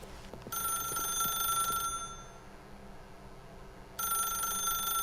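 A telephone rings in The Stanley Parable, an electronic bell trilling in two bursts separated by a pause of quiet room tone, with no voices.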